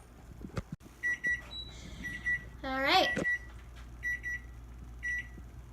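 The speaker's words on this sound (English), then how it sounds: "And then I'll show you what we're going to do when this timer ends." A kitchen stovetop timer on a coconut curry with kabocha pumpkin gives short repeated electronic beeps in several bursts, while a voice speaks briefly over a brief rising clatter.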